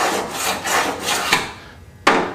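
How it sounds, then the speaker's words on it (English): Modified screwdriver with a dovetail-cut tip dragged along a dovetail track in a CS-1 sifter deck, scraping out old glue and gasket: a series of rough, rhythmic rasping strokes, close and fairly loud, ending with a sharp final scrape. "we actually modify a screwdriver and cut a dovetail into it so that when we drag it down the track, it scrapes out everything in it"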